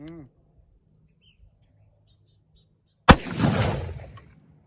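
A single loud .45 Colt gunshot loaded with Hodgdon 777 black powder substitute rings out at an outdoor range, a sharp crack followed by a rolling echo that fades over about a second after a quiet pause.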